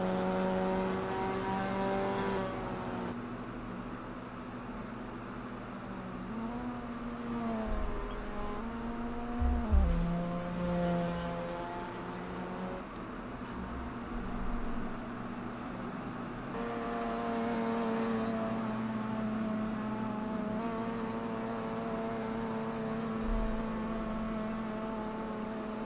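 An NA MX5 race car engine lapping in a racing video game, holding a steady drone that shifts pitch through repeated upshifts and downshifts, close and continuous throughout with no talking.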